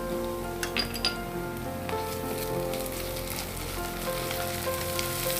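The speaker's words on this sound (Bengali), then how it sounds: "ভালোভাবে কষাতে থাকি।" Ginger garlic paste sautéing in oil for chola bhuna, a steady fine sizzle with a few faint clinks of the spoon on the pan, no voices.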